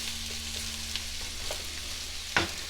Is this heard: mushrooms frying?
yes